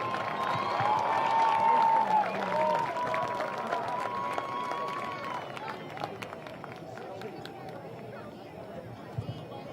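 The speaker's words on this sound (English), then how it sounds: "let's give all of our senior band members a big, well-deserved round of applause" Audience applause and cheering at a high school senior night football game, honoring the Southern Nash Marching Firebirds senior band members; a broad, steady wash of clapping and crowd noise from a large stadium crowd that slowly thins over several seconds.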